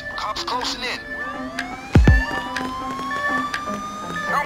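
Police sirens wail and rise in pitch as units close in during a bank heist in the video game Payday 2, layered over game effects, a sharp impact and shouting voices.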